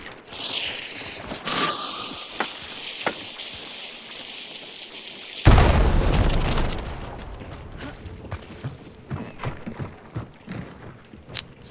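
A bomb lance detonates in a video game: one sudden, loud blast booms midway, after mechanical clatter and a ringing tone, then fades into scattered clicks and knocks.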